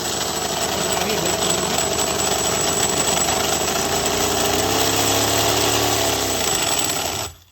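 A small V8 engine in an RC car runs loud and close with a steady, buzzy roar, its pitch wavering slightly before it abruptly cuts off.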